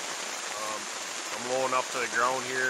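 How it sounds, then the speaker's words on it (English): Steady rain patters on a low-pitched tarp shelter over a one-person tent outdoors, a continuous hiss close by that runs under a voice speaking throughout. "the tarp's low enough to the ground to keep the rain off of me"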